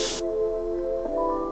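Airbrush spraying paint onto a surface, a short sharp burst of hissing air at the start, then a steady background with tonal hum and a faint second puff near the end.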